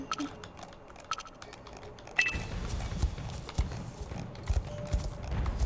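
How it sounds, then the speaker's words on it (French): Horse hooves galloping among wild horses in a video game, a rapid irregular clatter of hoofbeats that starts after a quiet moment and stays close and loud. "chevauchons parmi les chevaux sauvages"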